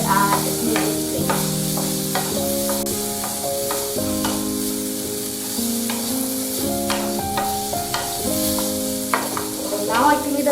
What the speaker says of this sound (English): You can stir it, and for a while in the starting I would recommend putting it at high flame